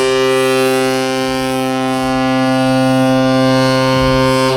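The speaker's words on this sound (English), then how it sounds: "Any second now, foghorn activated." A cruise ship's foghorn, heard on the Carnival Paradise in fog, blasts in one loud, steady, deep tone that holds for several seconds, close and unbroken, with no talk over it.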